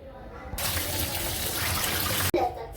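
Chopped fenugreek and coriander leaves washed under a running tap, a loud steady gush of water starting after a brief pause and cutting off abruptly near the end, followed by a short splash.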